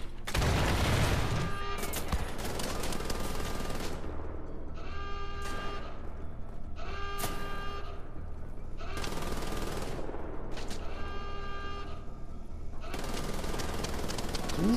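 Wolfenstein: The Old Blood game gunfire blasts in long rapid automatic bursts, loud and dense, with short gaps between volleys and no talking.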